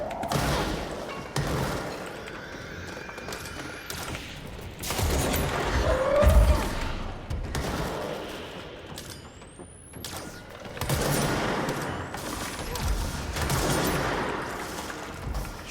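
Gunfire in the video game Control aimed at a winged enemy: bursts of rapid shots and crackling impacts come in loud waves over a low rumble, with brief pauses between volleys.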